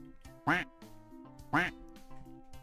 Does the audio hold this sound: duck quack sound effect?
yes